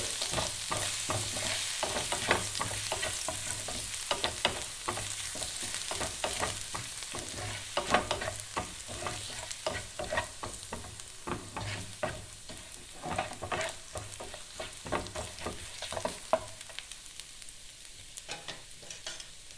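Four green chillies fry in a pan for a Bengali bhindi chorchori. A continuous sizzle runs under busy, close stirring and scraping, and the sound thins out toward the end.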